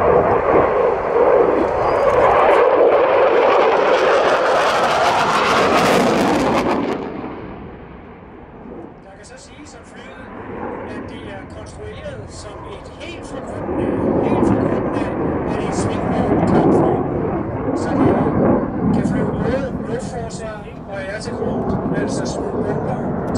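A JAS 39 Gripen fighter jet flies at Roskilde Airshow 2009, a loud, sustained engine roar that swells, fades briefly and builds again, heard alone without talk over it.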